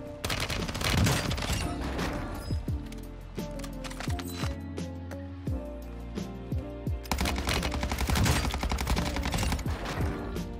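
Rapid SMG gunfire in the shooter game Warzone rattles out in loud, dense bursts nearly throughout, with brief gaps and scattered in-game clatter between volleys.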